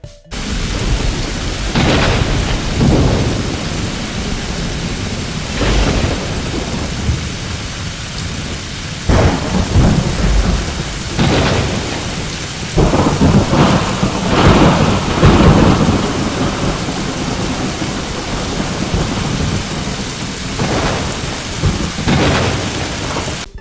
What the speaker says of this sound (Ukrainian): Так, це гроза.